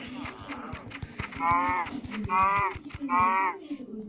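Video-game cow lowing in a farm village square, three drawn-out moos in a row, each about a second long, over steady background game sounds and clicking.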